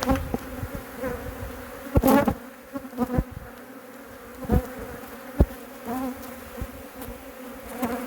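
Bees buzz steadily close by around an open hive, a dense droning hum with a few sharp knocks and bumps scattered throughout.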